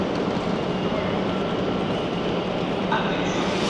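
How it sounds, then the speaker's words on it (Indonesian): EuroCity passenger train, Swiss-built, at a station platform on a Milan route: a steady, loud broadband rumble and hiss of the train and station surroundings, continuous throughout with no clear talk. "Eurocity yang bakal kita naikin, ini keretanya sekarang"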